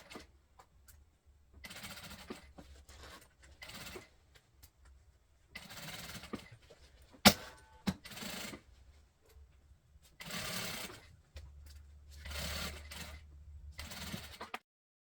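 A domestic sewing machine runs a safety seam along a bag's zipper, stitching in several bursts of a few seconds each separated by pauses, with a sharp click or clatter partway through.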